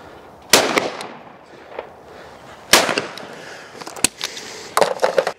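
Shotguns, including a Browning XS and a Blaser F3, fire at clay targets outdoors: several sharp, loud cracks spaced a second or two apart, each with a short ringing tail.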